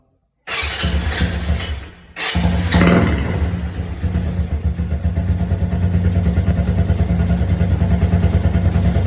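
A modified motorcycle with a new exhaust cold starting: a brief crank, a sputter and a short pause, then the engine catches and settles into a loud, steady, rumbling idle close by.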